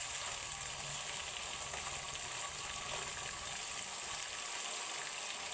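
Mixed vegetables, broccoli and carrots, sauté in a pan over garlic and onion that were browned first. A loud, steady sizzle and hiss goes on without a break throughout.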